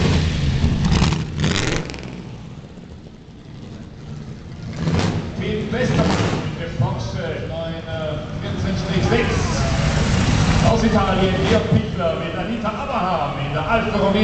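A Lagonda V12 Le Mans car drives past loudly at the Kitzbühel Alpine Rally, its engine roar rising and falling beneath an announcer talking over a public-address system.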